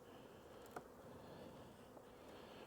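Bees hum inside a beehive box during spring hive work, a faint, steady droning buzz close by with a couple of soft knocks and no voices.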